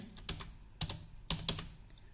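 Someone types a short word on a computer keyboard: a handful of quick, crisp key clicks in small bursts, close and quiet, with no talk.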